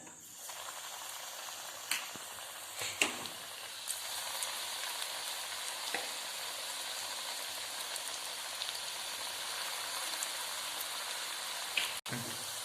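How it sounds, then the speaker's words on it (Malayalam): Steady crackling sizzle of battered onion fritters frying in hot oil, with a few sharp clicks and clatters, no voices. "എണ്ണ തിളച്ച് കഴിയുമ്പോൾ ഈ കൂട്ട് എണ്ണയിലോട്ട് ഇട്ട് വറുത്ത് കോരുക."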